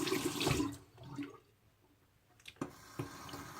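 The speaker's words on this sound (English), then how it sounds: "I'm going to rinse the razor off and rinse my face off real quick." Tap water rinses a 1958 Gillette Fatboy safety razor and a face: a splashy running burst, a quiet pause, then a few short splashes and drips, close by.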